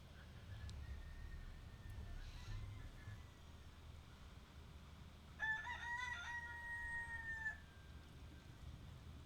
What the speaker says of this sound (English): I have a lot of roosters around me, and also hens